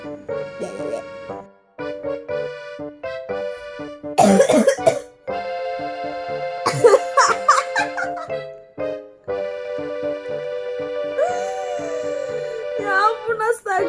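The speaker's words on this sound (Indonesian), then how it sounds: "Aku tuh batuk loh Gem" A woman coughs repeatedly in short, harsh bursts, with clusters of louder fits spread through the passage and some faint background sound between them.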